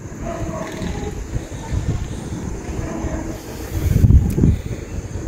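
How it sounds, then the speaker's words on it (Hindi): Cold winter wind blows outdoors at night as a steady, breathy low rumble that swells into a stronger gust near the end. "ठंडी हवा चल रही है"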